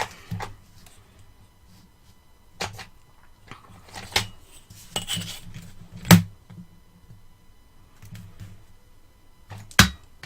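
Quick paper-cutting sounds as a flap is trimmed for a Halloween scrapbook album, a few sparse, sharp snips and rustles, close and fairly quiet over a soft low hum.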